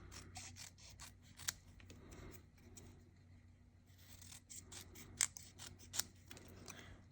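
Scissors trim a handmade craft cluster, giving a few quiet, close snips scattered over a low steady hum, with soft rustling between cuts and no talking.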